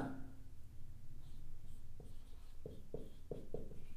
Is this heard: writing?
yes